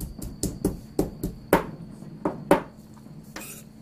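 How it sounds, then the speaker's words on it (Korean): Garlic cloves are pounded in a kitchen, about eight sharp knocks in an uneven rhythm, close and fairly loud, with no talk. "요새 마늘 두드리는 사람 내밖에 없지 싶다"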